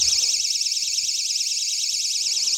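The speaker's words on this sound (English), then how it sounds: "And this is the alarm, which is obviously really loud" A GE personal security window and door alarm blares with a loud, continuous warbling siren that holds steady and close for the whole stretch, with nothing else heard over it.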